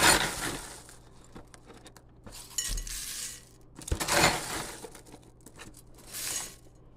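Honey nut toasted oat cereal poured out in several bursts, a crisp rattling, clinking cascade of dry pieces in short separate pours with quiet gaps between, close and without any talk.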